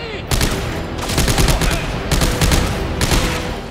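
Rapid bursts of automatic gunfire from a weapon in Dead Space 3, several loud, crackling volleys in quick succession with brief gaps between them.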